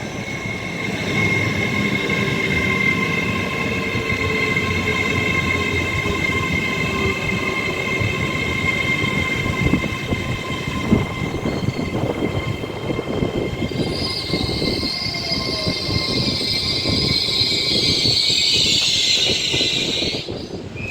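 Class 807 electric train pulling into Rugby station, a long sustained rumble with steady whining motor tones, rattling wheel noise and a rising high squeal of brakes near the end, close and loud throughout.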